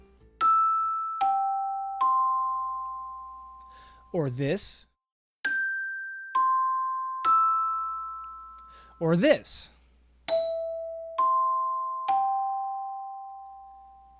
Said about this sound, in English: the notes of the NBC chime could look and sound like this.